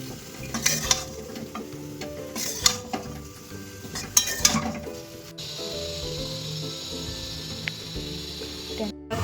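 Spiced cauliflower and potato being stirred in a pan for a Bengali fish curry, a steady sizzle under repeated scraping and clattering strokes of a spoon against the metal, close and moderately loud, with no talking.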